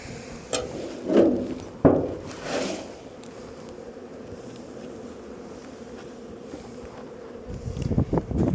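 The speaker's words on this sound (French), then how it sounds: "Donc on va faire cette ruche ensemble, elle est plutôt jolie" Honeybees buzzing around an opened hive during a white heather honey harvest, a soft continuous drone with a few louder knocks and handling sounds near the start and end.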